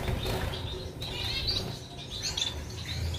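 Bengalese finches in a cage at a home aviary, with soft chirps, tweets and brief wing flutters over a faint background hum, fairly quiet and close.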